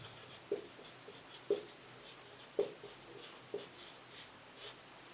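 Chalk or marker strokes on a board while a maths exercise about circles is worked out: four or five short, faint scratchy taps spaced about a second apart in a quiet room, no talking.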